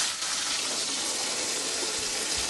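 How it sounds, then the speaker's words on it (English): Water rushes steadily from an on-demand tap in a house, a continuous, even gush with no pauses and no voices. "one of my favorite features of this house,"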